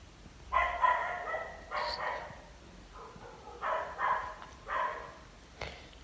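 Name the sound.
neighbor's dog barking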